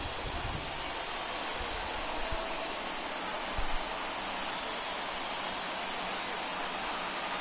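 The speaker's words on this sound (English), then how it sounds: "It's raining cats and dogs out there." Heavy rain pours steadily over a baseball stadium in MLB The Show 21, a dense, even hiss with faint low crowd or ambient thumps beneath and no voices.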